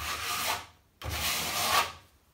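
Filler being spread with a scraping stroke over holes and crevices on an electrical fitting, two close rasping passes, each about half a second to a second long, separated by a brief gap, with no talking.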